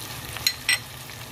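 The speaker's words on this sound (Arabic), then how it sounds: "صافي غادي نخليهم متشحروا مزيان" Spices sizzling in a frying pan for a Moroccan-style lasagne, a soft steady fry with two brief louder sizzles or stirring scrapes, close and alone.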